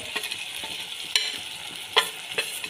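Spices going into softened tomatoes in a hot pan for a potato curry, a quiet sizzle with sharp stirring clinks and scrapes at irregular intervals, no talk.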